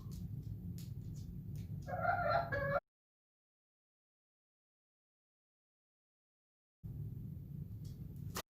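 Chickens cluck in short, close, bursty calls over a low rumbling background, then the sound drops out completely before the ambient rumble returns.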